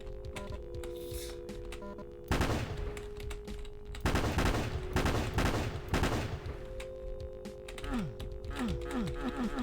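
Gunfire at a firing range in a Doom video game: loud single blasts followed by a dense rapid burst of repeated shots, with electronic tones and a few chirping sounds underneath.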